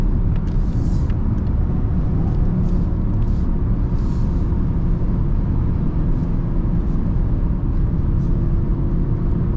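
A 2020 Mazda MX-30 electric car driving along, giving a steady broadband rush of wind and tyre noise with a low rumble, continuous and fairly loud, with no motor note and no talk.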